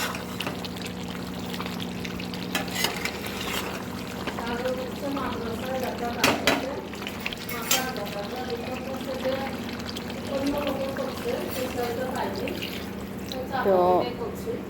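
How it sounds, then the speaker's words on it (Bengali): Water is added a little at a time to rooster chicken meat and potatoes frying in a pan, a soft pouring and sizzling wash running steadily under a voice talking over it. "আমি একটু একটু করে জল দিচ্ছি আর কষছি"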